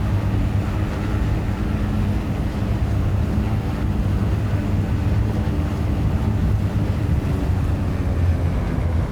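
Blackbox Trislander aircraft in a flight simulator during its takeoff roll, a loud, steady, broadband engine roar with low droning harmonics held unbroken throughout, no voices.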